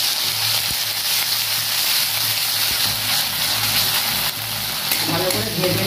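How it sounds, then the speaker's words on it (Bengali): Ginger, garlic, onion and green chilli paste with salt sizzles steadily in hot mustard oil, a loud continuous frying hiss with occasional stirring clicks close by. "এবার তেলের উপর আদা, রসুন, পেঁয়াজ, কাঁচা লঙ্কা যেটা পেস্ট করে রেখেছি ওটা দিয়ে দেবো।"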